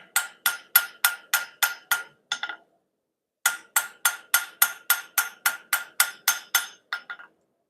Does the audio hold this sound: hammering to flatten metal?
yes